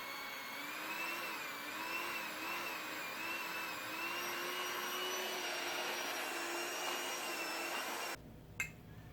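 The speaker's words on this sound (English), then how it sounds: "I have my mixer, and I'm only going to use one" A hand mixer with a single beater whips a DIY hair mask of essential oils, giving a steady, moderately loud motor whine with a slight wavering pitch for about eight seconds before stopping abruptly.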